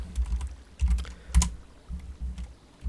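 Keys clack on a computer keyboard as a command is typed into a Minecraft server console, a series of irregular, close, fairly soft keystrokes with short pauses between bursts.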